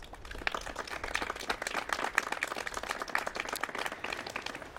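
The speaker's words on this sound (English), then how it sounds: "I want you now to just give yourselves a round of applause for coming out" An audience at a World AIDS Day gathering claps for themselves, a moderately distant, steady patter of many hands with individual claps audible throughout.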